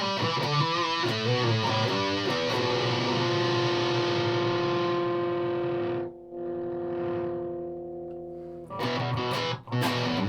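An electric guitar plays through an Electro-Harmonix Micro Metal Muff distortion pedal. Fuzzy chords strum at first, then a single note rings out and sustains before the strumming returns.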